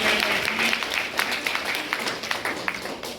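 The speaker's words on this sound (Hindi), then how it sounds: "तो एक बार ताली बजा दो जो सबसे पीछे।" Audience clapping at a Holi gathering, a moderate spread of hand claps across the room with a steady broadband wash, fairly brief and without clear talk over it.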